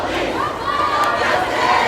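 A large protest crowd marching on the I-35W freeway shouts and chants together in a loud, continuous roar, with a raised voice rising above the mass of voices.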